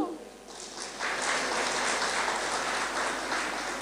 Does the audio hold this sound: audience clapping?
yes